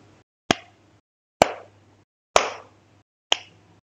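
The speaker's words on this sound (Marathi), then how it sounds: "आता मी टाळ्या वाजवते." Four slow, evenly spaced hand claps ring out alone in a quiet room, each one sharp and close with a short decay.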